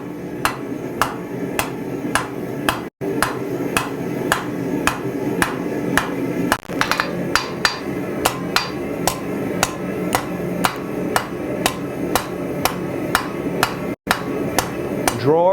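Rapid, evenly spaced hammer blows drawing out a hot steel bar on an anvil, each strike a sharp close ringing crack, with two brief pauses in the steady rhythm.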